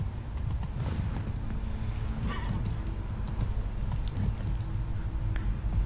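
A horse's hooves clip-clop steadily in The Witcher 3, a continuous walking rhythm under a low rumble of in-game ambience, close and moderately loud.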